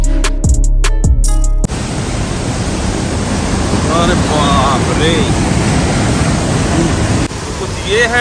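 Davis Falls in Pokhara roars with high-pressure water, a constant loud wash of rushing noise that fills the scene after a few sharp handling knocks, with faint voices buried under it.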